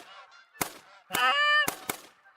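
Geese honk in the hunting game Call of the Wild, set in West Virginia: a flurry of near, loud honks with one longer call, punctuated by sharp bursts that sound like gunshots.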